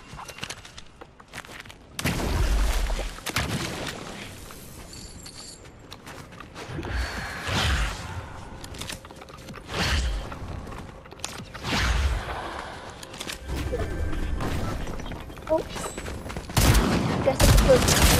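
Gunfire in a Fortnite-style shooter match: repeated bursts of distant fusillade across the clip, alternating with footsteps and mechanical clicks, fairly far off and moderately loud, with a player talking over it at times.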